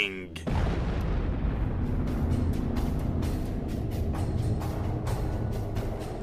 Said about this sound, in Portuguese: o material remanescente iria evaporar em uma explosão colossal e faria bang!